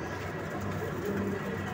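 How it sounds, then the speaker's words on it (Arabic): Domestic pigeons coo inside a loft, soft low throaty murmurs repeating steadily at close range against a constant background hum, with no talking. "ادي شكل الحمام اهو"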